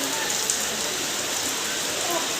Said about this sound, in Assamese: স্কুলত আজি পুৰা বৰষুণ দি আছে